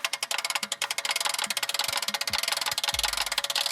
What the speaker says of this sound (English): It cranks up quite nicely